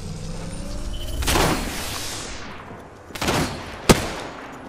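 Gunfire in the video game Apex Legends, with a burst of rapid shots, then a gap, another volley and a sharp single crack, set against a background rumble of game ambience.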